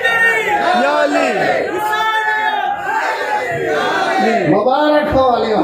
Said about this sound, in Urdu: کوئی مجمع میں ایسا آدمی ہے علی کا دیوانہ جو کھڑے ہو کے نعرہ لگا دے